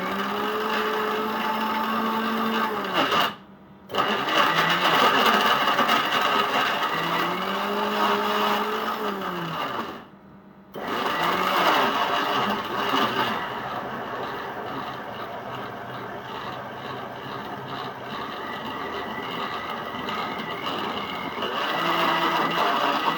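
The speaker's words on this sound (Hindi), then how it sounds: "पहले इसे अच्छे से मिक्सर में चर्न करेंगे" Mixer grinder churning jalebi batter with a little water, a loud steady whirring drone that pauses twice briefly before resuming, no voices over it.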